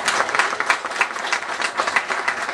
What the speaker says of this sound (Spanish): Aplauso al doctor Laura Arborea Márquez por tenernos ubicado en este sitio tan especial.